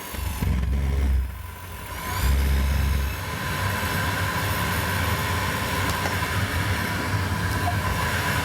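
An Espar D30W diesel boiler runs with a continuous mechanical drone and rumble, starting with two louder surges and then settling into a steady hum, close by and with no talking.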